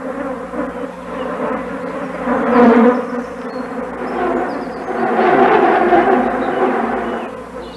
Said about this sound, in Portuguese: Cada mosca sorve o líquido pegajoso dos esporos, e os esporos ficam grudados nas suas pernas e no seu corpo.